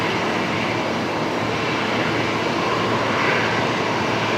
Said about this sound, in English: Jetstar 657 just about to touch down